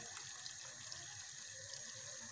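Hot water poured over vegetables in a pot, a steady close gushing stream that runs without a break, no voices.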